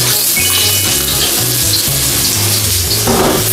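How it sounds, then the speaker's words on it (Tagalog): Ginger sautés in hot cooking oil with a loud, close, continuous sizzle and crackle, broken by occasional clinks and stirring. "So gisa na po natin ang ating ginger."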